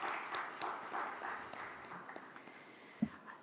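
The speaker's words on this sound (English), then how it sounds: "a big round of applause for all our jury members" Scattered applause from a crowd at a live awards finale, a steady patter of many hands clapping that gradually thins out, with a sharper clap near the end.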